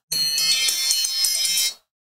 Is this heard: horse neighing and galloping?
no